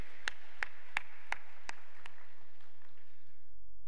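A few sharp claps ring out, evenly spaced, then fade to scattered, softer ones, as a congregation at a prayer-mountain revival service in a church hall gives praise, with a low hum underneath.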